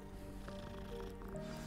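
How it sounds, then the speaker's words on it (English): Quiet cat sounds from Hogwarts Legacy, a short meow-like cry amid soft game background music with held tones, with no one talking. "Nema pasa, samo mačke."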